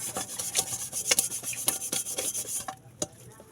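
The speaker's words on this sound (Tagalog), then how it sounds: "Ikot-ikutin lang natin yung kaldero natin para" A soot-blackened cooking pot scrubbed by hand in circular strokes, giving a close, steady scraping and rubbing with repeated gritty bursts before the strokes stop near the end.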